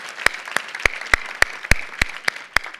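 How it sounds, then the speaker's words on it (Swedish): Audience applause at the close of a Swedish panel discussion event, heard as sparse, individual sharp claps in an irregular but steady rhythm, fairly close and alone with no talking. "Och avslutningsvis kan vi ge en varm applåd till Åsa Julin som har gjort ett fantastiskt"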